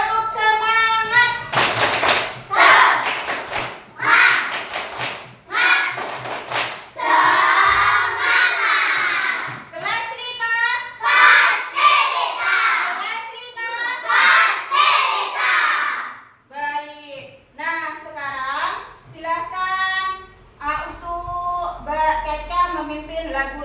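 Elementary school children perform a rhythmic clapping cheer in a classroom, loud patterned bursts of claps alternating with group chanting and shouted voices, repeating across the stretch with short pauses between phrases.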